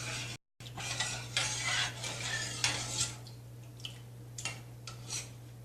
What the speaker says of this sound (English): So then you just keep stirring it till it starts thickening.